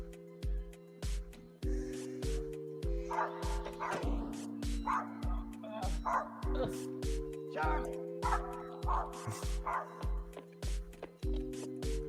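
A dog in a movie yaps and barks in short bursts over steady, rhythmic music, with voices talking briefly in between.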